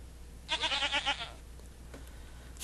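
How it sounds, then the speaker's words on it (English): In the Second Life virtual world, a desert camp goat lets out one wavering, pulsing bleat of about a second, fairly clear above quiet ambient hum, then fades to near silence. "so that's where the goat sound was coming from"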